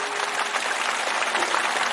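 An audience at a Shrimad Bhagavat Katha gathering in Uttar Pradesh claps steadily, a dense, continuous wash of many hands heard from a moderate distance without pause.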